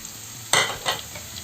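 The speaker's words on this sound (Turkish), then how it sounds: "ve renk alasıya kadar soğanımızı kavurmaya devam edelim." Finely chopped medium dry onion fries in hot oil. A sharp sizzle bursts up as it is stirred, then fades, with a second stir sizzling soon after.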